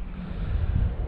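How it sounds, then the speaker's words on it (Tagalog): Steady seaside wind at Ras Al Khaimah rushing across the microphone as a loud low buffeting roar, with no voices. "sarap ng hangin"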